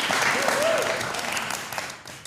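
A large crowd at a livestreamed rally-style event breaks into sustained applause, a broad wash of clapping that stays loud and steady before thinning out toward the end.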